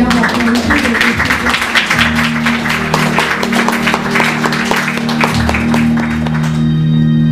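Applause rings out at a wellness event honoring a movement's founder, a dense, steady wash of clapping that stays loud from start to finish, with a sustained low hum running underneath.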